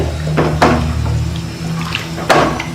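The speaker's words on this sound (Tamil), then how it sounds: "குழம்புக்கு தேவையான அளவுக்கு தண்ணி ஊற்றிக்கலாம்" Water poured into a pot of Tamil kulambu curry in a home kitchen, a splashing, running trickle with a few sharper gushes, fairly close and alone without speech.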